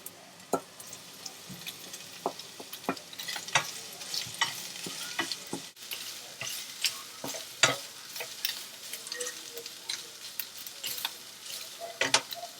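Beef and potatoes frying in a pan, a soft steady sizzle broken by frequent sharp scrapes and clacks of a utensil stirring, close and without talk.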